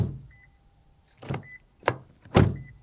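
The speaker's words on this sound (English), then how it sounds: "you can also open it again and hear the door closing sound" The door of a compact SUV (Mazda CX-30, Kia XCeed, Toyota C-HR, Nissan Juke or Peugeot 2008) shuts in three separate thuds, each punchy and close, following a brief electronic warning chime.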